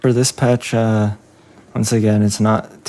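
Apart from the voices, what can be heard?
No everyday noises stand out.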